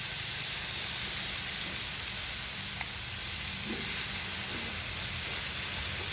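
A steady, soft sizzle of hot dogs frying on a hot griddle, a continuous hiss with faint occasional pops, no voices.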